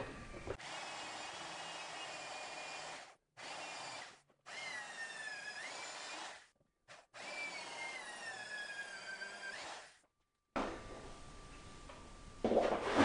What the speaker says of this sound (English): when I start drilling.